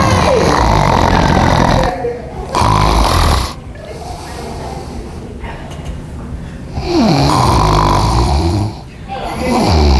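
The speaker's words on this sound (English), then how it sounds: "You were snoring so loud that the entire library was looking at you." Loud snoring in a library comes in long, rasping bursts with brief quieter gaps between breaths, close and dominant.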